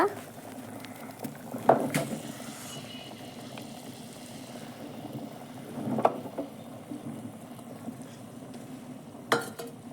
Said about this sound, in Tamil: இப்போ பார்க்க நல்லா கொதிச்சிருச்சு பாருங்கள்